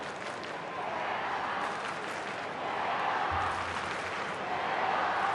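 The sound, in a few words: football crowd urging on St Kilda at St Kilda v Geelong match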